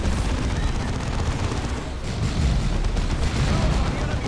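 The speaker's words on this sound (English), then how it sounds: "Someone keeps shooting me." Dense, continuous battlefield gunfire and explosions from the strategy video game Dawn of War 2, loud and sustained throughout with no let-up.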